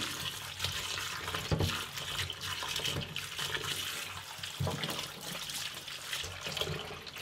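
Chopped pork cubes being washed in water in a kitchen, with continuous splashing, trickling and sloshing, occasional sharper splashes, close and moderately loud.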